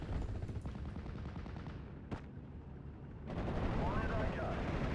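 Dense gunfire and distant artillery rumble across a Normandy 1944 battlefield in a WWII strategy game, steady and busy, with one sharp crack near the middle and the barrage swelling louder in the final seconds.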